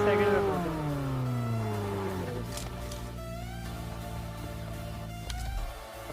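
A car is driven in the mobile battle royale game BGMI, its engine droning and shifting pitch as it moves while someone talks over it throughout.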